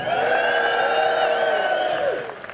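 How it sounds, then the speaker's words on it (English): A crowd at a vaping expo cheers loudly and steadily with whoops and shouts, fading out near the end. "Let's give them a cheer now in solidarity, come on."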